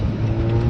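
A V6 car engine runs at steady high revs for under a second, a loud continuous drone with strong low harmonics and no voices over it.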